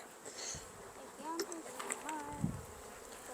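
Honeybees around an open backyard hive buzz steadily, with individual bees droning past close up, rising and falling in pitch, fairly quiet.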